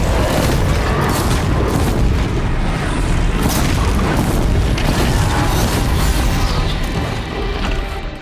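In the Horizon Zero Dawn video game, a large machine creature pounds its arms on the ground, giving continuous loud rumbling booms and crashes that dominate throughout.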